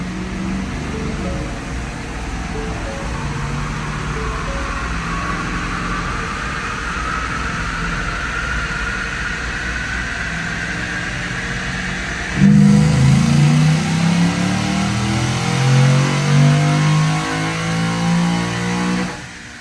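A test-mule car fitted with velocity headers revs hard on a dyno, its engine pitch climbing in one long sustained pull before a sudden louder, rougher surge near the end, with no talking.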